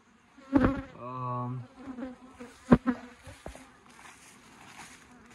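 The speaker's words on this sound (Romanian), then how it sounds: "Stai că e o albină pe cameră." A honey bee buzzes in close to the camera, rising and falling as it passes near, with scattered bumps and taps around it.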